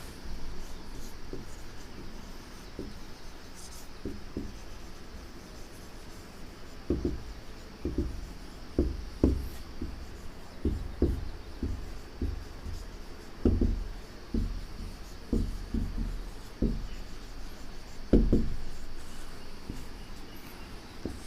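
Marker or chalk writing a heading on a classroom board for an English grammar lesson, heard as a run of short scratchy strokes in irregular bursts, fairly close and clear, with no talking.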